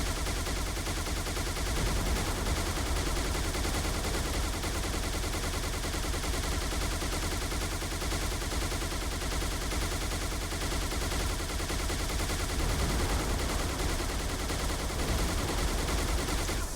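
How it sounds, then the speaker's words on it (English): A Shadow turret fires in Halo 3, a dense and loud barrage of rapid gunfire that runs without a break for the whole stretch, with no talking over it. "the Shadow turret is easily the most overpowered weapon in the game"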